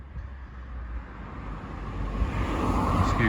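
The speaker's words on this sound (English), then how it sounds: "Excuse the noise because we are on the front and lots more traffic." Steady road traffic rumble beside a front garden, a low continuous roar that slowly swells louder as a vehicle draws nearer, with faint wind noise.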